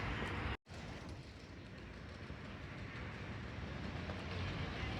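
Inside a budget passenger train to Madrid, a steady rumble of rolling wheels and rail noise fills the carriage, broken by one brief dropout near the start.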